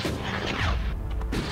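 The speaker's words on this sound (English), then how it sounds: "looks like there's a grenade" A grenade goes off in the game Elex, a loud booming blast with a rumbling tail that fills the short moment, followed by a thud.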